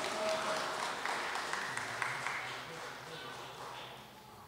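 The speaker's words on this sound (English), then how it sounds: "Let's give our brother a Moorish honor hand clap." An audience claps for a man at a 2019 Moorish flag-raising ceremony in Philadelphia, a soft, spread-out patter of hands that gradually thins, with a voice speaking over it.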